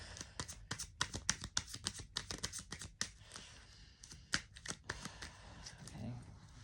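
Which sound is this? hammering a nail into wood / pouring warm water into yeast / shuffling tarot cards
shuffling tarot cards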